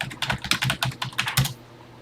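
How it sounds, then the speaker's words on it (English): Keys clatter on a TI-99/4A home computer keyboard in a quick, uneven burst of roughly a dozen close, crisp clicks, then stop abruptly into quiet. "Press any key to begin, press 1 for TI Basic, and let's get typing."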